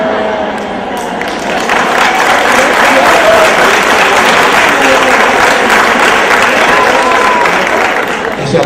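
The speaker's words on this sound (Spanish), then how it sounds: "Ese aplauso tiene picardía," Loud, sustained applause from an audience, steady clapping that fills the whole stretch without letting up.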